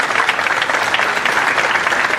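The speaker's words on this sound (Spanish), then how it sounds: "Recibamos con fuertes palmas al abogado Baltasar Trujillo Bizárraga." An audience in a congressional recognition ceremony breaks into steady, dense applause, close and loud, with only a faint murmur of crowd beneath the clapping.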